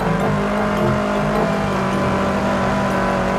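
A two-wheel-drive rally car driving a forest stage at the 1992 Townparks Rally, its engine droning loud and close in a steady, continuous pull with no talk.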